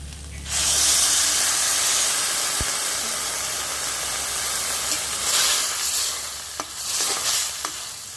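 A sudden loud hiss as water hits a hot pan of fried jackfruit seeds and chillies, settling into a sustained steamy sizzle with a couple of utensil knocks, close by.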